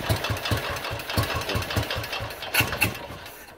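A 1936 Sunbeam Model 9 500cc vintage motorcycle engine idles up close in a steady, lumpy single-cylinder beat, loud and alone with no talk over it.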